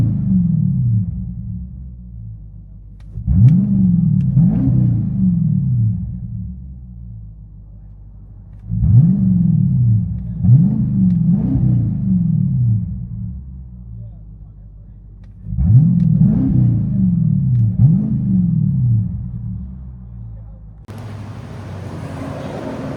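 A 2025 Dodge Durango R/T with a 5.7L HEMI V8, X-pipe and Carven R-Series exhaust, heard from inside the cabin, revs three times in deep, booming pairs of bursts that fall back to a low idle rumble between them.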